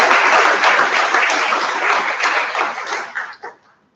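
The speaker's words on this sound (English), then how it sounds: "Once again, a big round of applause" A big round of applause fills the hall at the FIMC 2024 inaugural ceremony, a dense, loud, close wash of many hands clapping together that holds for about three seconds and then quickly dies away.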